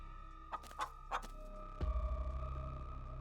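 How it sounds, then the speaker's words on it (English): Chickens clucking in the horror game Scarlet Hollow, a series of short, separate clucks early on, followed by a low throbbing tone that runs underneath to the end. "they're chickens."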